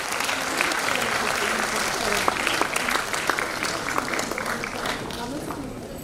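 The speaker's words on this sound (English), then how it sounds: "can have a big round of applause" A conference hall audience at a health sciences event applauds a panelist, steady dense clapping at moderate level throughout, with a faint voice underneath.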